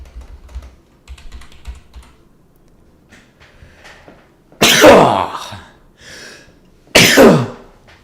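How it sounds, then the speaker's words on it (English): Two loud, sharp human sneezes, close to the microphone, each followed by a brief decaying breathy tail, with faint keyboard typing and clicking before them. "So I can sneeze my lungs out."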